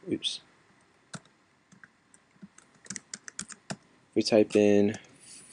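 Number keys pressed on a computer keyboard while testing a Python curses program, heard as a few sparse, close clicks followed by a faster burst, with speech running alongside.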